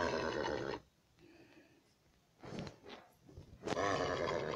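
Horse neighing in a video game, with loud whinnies at the start and end and softer snorts and grunts in between, heard alone without talk.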